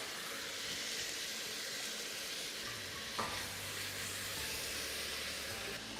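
Chopped tomato tossed into a pan of softened onion and browned garlic for a chicken and palm heart pie filling, giving a faint, continuous sizzle and hiss with a brief stirring scrape partway through.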